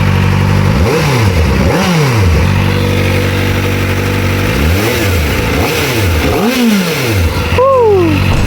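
A new Kawasaki ZX-4RR motorcycle revs hard outdoors at an eco-tourism park, its engine climbing and falling in repeated sharp bursts with high-pitched whine, loud and close, with a final quick blip near the end.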